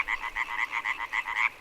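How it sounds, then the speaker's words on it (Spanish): Frogs croaking at night near a river in the Chernobyl area, a fast, even series of about a dozen close, loud croaks with no other sounds. "entre el croar de las ranas"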